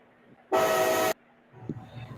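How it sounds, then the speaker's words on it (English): A loud, blaring train horn sound effect, played as a prank, sounds in one sustained half-second blast, abruptly starting and stopping against quiet room noise, followed by faint voices. "train horn prank"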